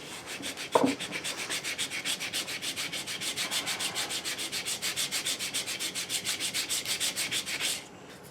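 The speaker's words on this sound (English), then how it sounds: "put some sanding on that. Sand that smooth." Rhythmic back-and-forth sanding on a wooden pinewood derby car, a steady rasping scrub repeated quickly and close by, stopping near the end.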